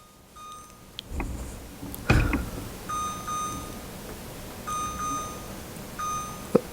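An LG stove's timer signals the end of its countdown with repeated electronic beeps, short bursts in a rhythmic pattern, over faint kitchen noise and a couple of louder clunks, with no talking.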